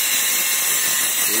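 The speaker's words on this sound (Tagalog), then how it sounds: "Pinipinis na lang, kikinisin. Para pumantay yung stainless." Steady high-pitched hiss and whine of a power tool polishing a freshly welded stainless steel car muffler, loud and close, constant without breaks.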